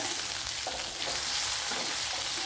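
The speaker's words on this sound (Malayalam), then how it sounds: "അതിലേക്ക് ചെറിയൊരു തക്കാളിപ്പഴം ചേർത്ത് കൊടുക്കുക" A small tomato drops into shallots and garlic frying in a pan for a papaya stir-fry, with a continuous sizzle and occasional soft stirring scrapes, close and unaccompanied by talk.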